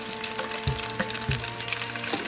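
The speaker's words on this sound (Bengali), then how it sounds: "একে একে ভেজে ভেজে ওঠানো হচ্ছে, তেল ঝরাচ্ছি" Pieces of crispy chicken sizzle and crackle steadily in hot frying oil, a continuous close, moderately loud fry with occasional soft bumps and stirring knocks.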